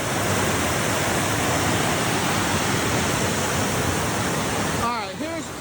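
A creek flowing at the bottom of a slope, partly hidden in brush near a lake, gives a steady, loud rushing wash throughout, with a voice briefly speaking near the end.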